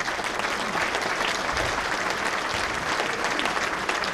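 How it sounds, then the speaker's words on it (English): Dense, even applause fills a banquet hall as diners at an oldtimers baseball banquet cheer the local team, loud and continuous with no pauses. "Give them a round of applause."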